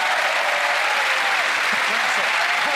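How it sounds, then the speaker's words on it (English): Audience applause for a magic show, a steady, loud wash of many hands clapping throughout, with no pauses. "A nice round of applause"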